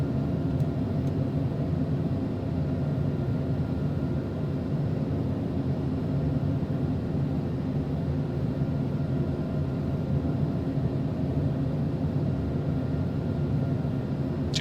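A small airplane cruising in flight, heard from the cockpit on a route between Singapore and Jakarta: a constant, dense engine and airflow drone that fills the cabin and stays steady throughout, with no talk.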